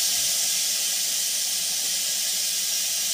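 Pointed gourd (potol) sizzles in hot oil in a pan, a steady close hiss with no breaks for a few seconds.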